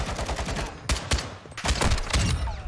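EBR-14 rifle shots ring out in Call of Duty, a loud cluster of rapid cracks in quick bursts with short pauses between them.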